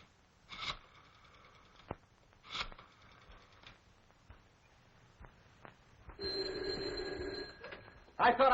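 An old-fashioned telephone bell in a 1938 detective film rings in two short, clear bursts. A different tone follows later. The room is otherwise quiet, with faint movement sounds.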